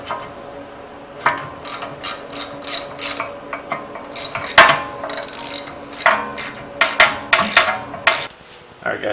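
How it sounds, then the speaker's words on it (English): Ratchet clicking while tightening ball joint bolts on the front suspension strut arm of a Datsun 240Z, a steady run of sharp metallic clicks in bursts, close and alone without talk. "And then basically you just gotta tighten it up."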